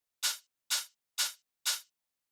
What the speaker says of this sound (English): So after that, I have the open hi-hat, which sounds like this.